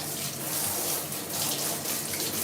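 Very hot water pours steadily from a tap while feet are rinsed, a continuous loud splashing rush that fills the whole stretch without any voices.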